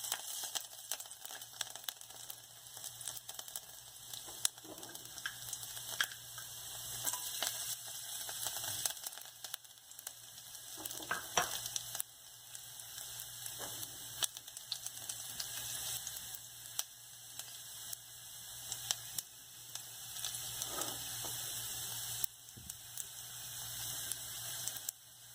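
Garlic frying in hot ghee for a garlic dal tadka, a steady quiet sizzle with scattered crackles and pops running throughout, no voices over it.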